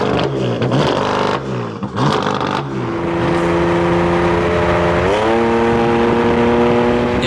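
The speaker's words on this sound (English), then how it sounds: "It's extremely loud, but it's not super loud and raspy." A rare 2016 BMW M3 with a twin-turbo S55 engine and straight-piped exhaust revving hard, then settling into a loud steady drone that steps up in pitch, heard up close without talking.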